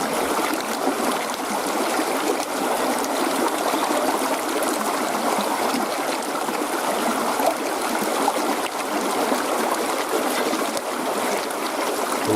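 Water sloshes and swirls continuously in a gold pan during panning, a close, steady wash of splashing with no pauses.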